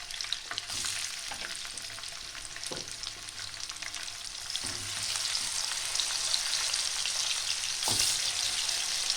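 Pieces of shankar (stingray) fish frying in hot oil for a Bengali jhal, a steady close crackling sizzle with occasional louder pops and stirring clicks, no talk.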